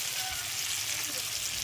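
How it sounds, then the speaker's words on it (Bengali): Spice masala for ghugni frying steadily in a pan, a dense continuous sizzle throughout with no talk over it. "মশলা খুব ভালোভাবে কষানো হয়ে গেছে"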